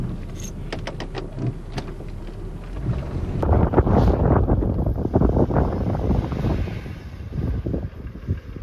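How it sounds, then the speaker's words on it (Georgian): Strong wind with blowing snow on a mountain village road in Dusheti, buffeting the microphone in rough gusts, calmer at first and then surging into heavy, rumbling blasts mixed with scattered knocks and rattles. "ქარია და ძალიან დიდი ნამქერია."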